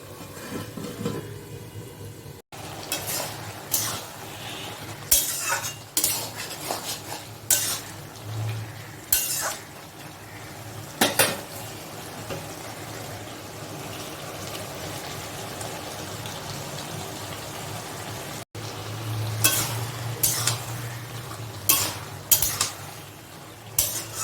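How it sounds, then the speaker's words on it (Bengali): Small mola fish curry with mixed vegetables bubbles and sizzles in a pan on a raised gas flame, with a steady simmer and scattered clinks of a spoon stirring against metal. "গ্যাসের ফ্লেমটা বাড়িয়ে দিয়েছি দুই মিনিটের মতো ফুটিয়ে নেব"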